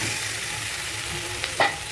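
A spoon stirs fried duck eggs in a sizzling pan, a soft continuous fry hiss with a couple of brief scraping clinks near the end.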